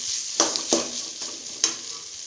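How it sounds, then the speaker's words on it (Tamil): Mutton for chukka sautéing in a pan, a continuous hiss of frying broken by three or four sharp scraping strokes of a spoon stirring against the pan, close by. "நல்லா வதக்கணும். அடி பிடிக்காத அளவுக்கு பார்த்துக்கோங்க."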